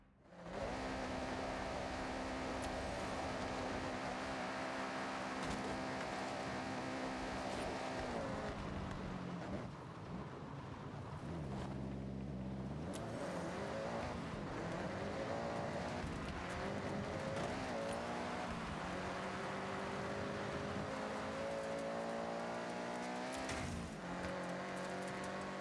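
A car in Forza Horizon 6 drives flat out with a loud, continuous engine drone whose pitch climbs and falls through gear changes, with tire squeal and skidding mixed in throughout.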